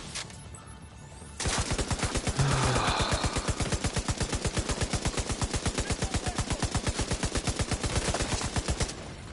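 Rapid automatic gunfire from The Division 2 video game hammers out in a long, evenly spaced burst lasting several seconds, loud and close, with no talk over it.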